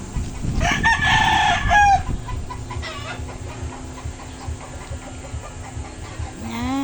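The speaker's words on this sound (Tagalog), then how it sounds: "Mga manok." A rooster crows loudly near the start, followed by chickens clucking and calling in a busy farmyard, with steady background bird chatter.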